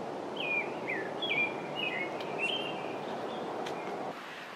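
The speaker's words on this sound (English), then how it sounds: "But right now he's just singing for the morning, greeting the day." An American robin sings a series of short, clear whistled phrases in the morning, repeated at a steady pace over a continuous background hiss, with a few faint chirps from other birds.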